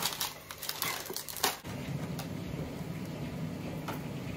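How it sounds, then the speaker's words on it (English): Kitchen foil being pulled out and laid down: close crinkling and rustling bursts in the first second and a half, then a soft, steady background hiss, with no talk. "I will take out one of the foils, lay another piece down"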